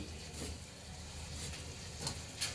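Spices sizzling as they are sautéed in a pan in a home kitchen, a steady low hiss of frying that continues throughout with a few brief louder crackles, close and unbroken, with no talk.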